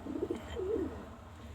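Pigeons perched in their roosting holes give a soft, low cooing call, a short run of throaty murmurs heard close and alone.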